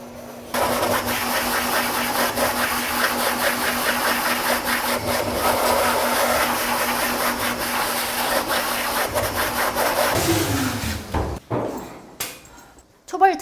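Blower dryer roaring at a self-service dog bath while a dog is dried, a loud, steady whooshing drone with a faint hum under it for about ten seconds before it winds down and stops, followed by a few knocks.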